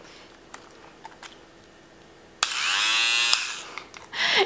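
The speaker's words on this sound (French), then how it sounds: "Donc j'utilise ces petits rasoirs électriques comme ça." A small handheld electric fabric shaver buzzes steadily across a knitted sweater for about a second, preceded by faint clicks and followed by a brief second burst, close and fairly loud.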